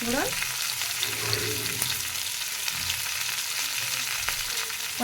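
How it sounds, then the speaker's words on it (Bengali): Steady crackling sizzle of five-spice seeds frying in hot oil in a wok, close up, with faint scraping of a stirring utensil. "ওই কড়াইতে তেল আছে, ওর মধ্যে ফোড়নে দিয়ে দেবো একটু পাঁচ"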